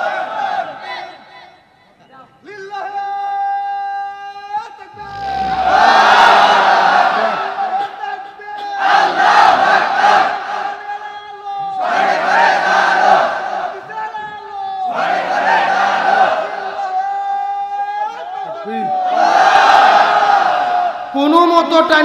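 A large crowd at an Islamic religious gathering roars the takbir "Allahu Akbar" in call-and-response, a single voice leading each time and the massed shout answering in five loud swells.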